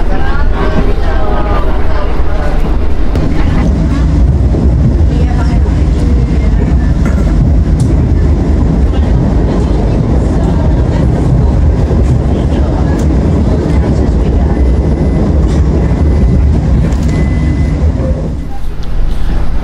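Interior of a Batavia economy-class passenger train running between Jogja and Solo: a steady, loud rumble of wheels and carriage noise fills the whole stretch, with faint voices mixed into the background.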